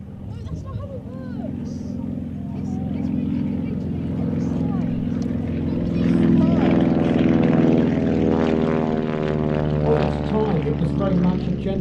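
A 1938-design SR10 gull-wing propeller aeroplane runs its engine with a droning tone that builds in strength, while someone talks over it throughout.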